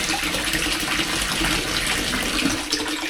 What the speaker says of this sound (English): So I'll just pour a little bit of that in now.